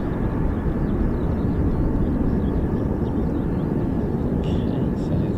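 A US Air Force military aircraft departs from an RAF air base, its engines producing a loud, continuous, close roar that fills the whole stretch without a break.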